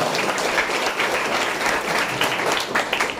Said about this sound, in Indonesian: tepuk tangan untuk pasangan calon